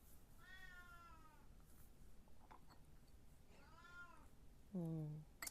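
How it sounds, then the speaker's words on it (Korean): A cat fussing with two drawn-out meows and a shorter, louder complaining cry at the end, fairly close in a quiet room during a tea tasting, with faint background noise between calls. "고양이는 떼를 쓰기 시작했고요"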